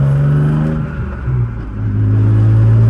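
A BMW E36 accelerating in gear on the road, its engine drone rising steadily and loudly from inside the cabin, easing briefly as if between gears, then climbing again.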